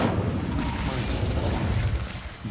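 Fire spell cast in the Hogwarts Legacy video game: a sustained low rumbling roar with crackling bursts, steady and fairly loud for the whole stretch, no talk over it.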